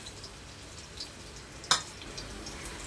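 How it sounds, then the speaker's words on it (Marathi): Garlic frying in hot oil in a pan for a tempering, a soft, steady sizzle running throughout with one sharp clink partway through. "तर लसूण आपल्याला थोडा गुलाबी रंगावर परतून घ्यायचा आहे।"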